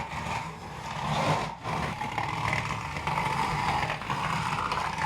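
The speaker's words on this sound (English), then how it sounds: "So I'm gonna go around and just score this all over the wallpaper." A scoring tool rolled over wallpaper to perforate it before the paper is sprayed and stripped; a steady, close grinding, scratchy rasp with slight fluctuations and a brief dip near the middle.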